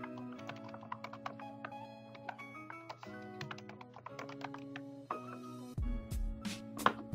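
Fingers tapping out a password on a computer keyboard, quick irregular clicks in short bursts, close and clear over a soft steady hum, with a few louder thumps near the end.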